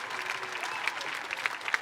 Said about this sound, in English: Let's give those graduates a round of applause.